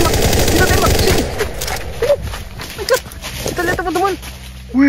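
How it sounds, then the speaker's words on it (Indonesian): Rapid video game gunfire aimed at dinosaurs during a forest hunt, loud dense bursts at the start, then someone talking over fainter game sounds. "Kita tembak, ayo kita tembak."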